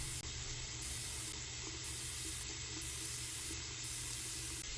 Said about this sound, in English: Lastly, turn off the water using the paper towel.